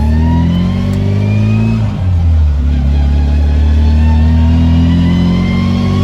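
A steady, high-pitched gear whine from a straight-cut gearbox in a Mini 1275 LS rises and falls over a loud engine drone inside the moving car, with a brief gear change partway through.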